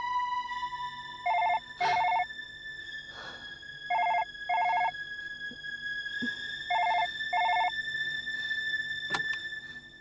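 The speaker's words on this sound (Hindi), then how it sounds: "लेकिन यहाँ तो फोन पहली बार बजा है।" A telephone rings in bursts of two electronic trills, repeated three times at regular intervals against a quiet room with a few soft knocks and clicks between rings.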